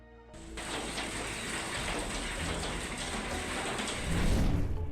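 Hail hammering down during a storm, a dense continuous clatter that starts abruptly and grows heavier toward the end, loud and close, with no voices.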